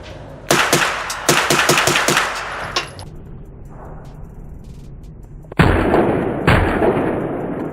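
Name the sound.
AR9 rifle fired rapidly at the range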